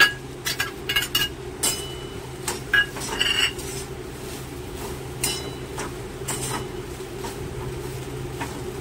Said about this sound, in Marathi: आता आपण खोबरं टाकून खोबरं थोडं भाजून घेऊ